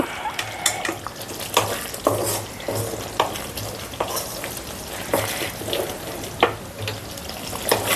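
A cardamom pickle with fenugreek powder is stirred in a pan, giving repeated scraping and clinking spoon strokes over a steady low sizzle, close and fairly loud, with no talking.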